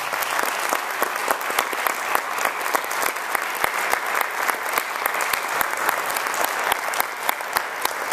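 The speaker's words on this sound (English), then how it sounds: "a round of applause" An audience at a forum on protecting children online applauds to honour people who serve, loud sustained clapping with distinct sharp individual claps standing out near the front, continuing steadily without speech.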